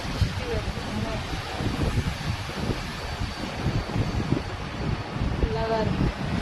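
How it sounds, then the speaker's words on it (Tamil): An electric fan spinning in a small room, a constant close whooshing rush of moving air that stays steady from start to finish. "சின்ன ரூம்ல இந்த ஃபேன் சுற்றி வருது"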